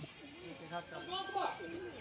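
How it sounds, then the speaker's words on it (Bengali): Pigeons from a flock cooing nearby, soft rolling coos repeated over a couple of seconds beneath someone talking. "একদল পায়রা উঠছে দেখুন"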